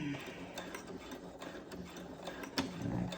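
Sewing machine stitching bias tape onto the armhole of a dress, a steady close mechanical whir of the needle running continuously with a few small clicks, no talking.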